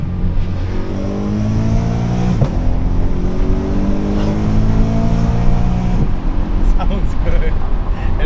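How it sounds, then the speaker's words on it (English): A BMW E92 fitted with an Akrapovic exhaust revs up and settles in rising and falling engine sweeps, a droning tone with two sharper blips, while people talk over it. "Acropovic exhaust at the moment is very droney"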